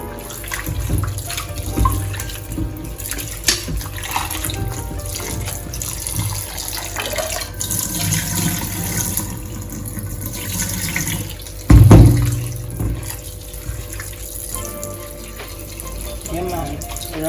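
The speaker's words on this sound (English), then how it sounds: "I am going to wash my shrimp." Raw shrimp are washed under a running kitchen tap in a sink, water splashing and trickling continuously with a louder gush near the middle, while people talk over it.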